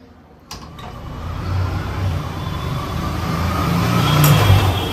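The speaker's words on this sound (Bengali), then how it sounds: "ঠিক যেই মুহূর্তে কথা বলছিলাম সেই মুহূর্তে গাড়িগুলো একদম আওয়াজ করে যাচ্ছে।" Road traffic passes beside a house, a car engine swelling steadily from a quiet start into a broad, building rumble over several seconds, fairly close and loud, without voices.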